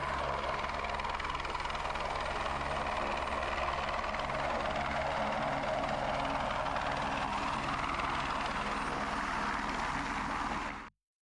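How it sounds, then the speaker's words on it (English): Helicopters carry tree-planting crews out of a remote camp in Alberta, a steady, loud, rhythmic rotor thump and engine drone that holds constant, then cuts off abruptly at the end. "choppers are already up in the air, flying crews out of camp straight to their blocks"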